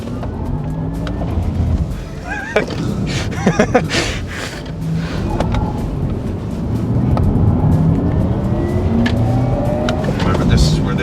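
A Porsche, one of a 911, Taycan or Panamera fitted with carbon ceramic brakes, runs hard on a race track, its steady engine and road roar close and continuous while people talk inside the car.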